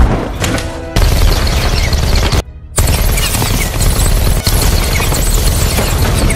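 Sustained, dense gunfire from dual Uzi submachine guns in an action film scene, loud rapid bursts filling the whole stretch with a brief dropout partway through, no speech.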